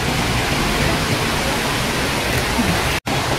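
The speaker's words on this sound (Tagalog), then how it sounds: "Ayan yung waterfalls." The waterfall at Kalba's Hanging Garden park pours as a steady, dense hiss of rushing water, loud and constant, broken only by a momentary dropout near the end.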